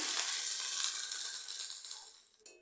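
Coriander leaves fry in mustard oil in a pan with a close, steady hissing sizzle that slowly fades as the moisture cooks off, ending with a brief clatter of stirring.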